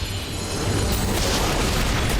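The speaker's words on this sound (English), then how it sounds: "that was a good explosion though" Explosion in the video game God of War: Ghost of Sparta, a dense, loud roaring blast that holds steady for about two seconds with rumbling low end and no voices over it.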